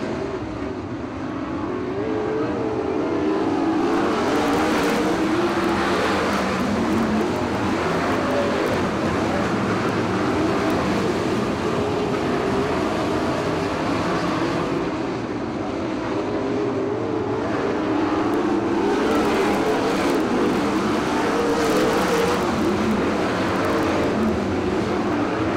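USAC/CRA sprint cars racing at Ocean Speedway, a continuous loud roar of engines that rises and falls as the pack circles the track, with no talk over it.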